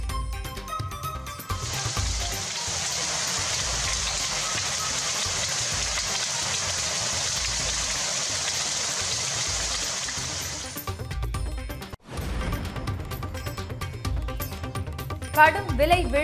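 Hail and rain pelt down in Pandalur, a loud, continuous hiss and clatter that holds steady for about nine seconds before breaking off into sharper scattered noises.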